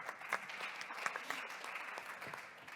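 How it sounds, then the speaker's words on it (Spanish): Quiet applause from a congress audience for the speakers at a forum closing, steady scattered clapping heard faintly at a distance. "Un aplauso a los ponentes."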